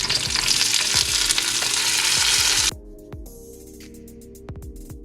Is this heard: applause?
no